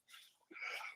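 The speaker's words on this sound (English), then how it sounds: "I think I'm going to sneeze." A single faint human sneeze, a quick intake followed by a breathy burst, heard close and alone in a quiet room.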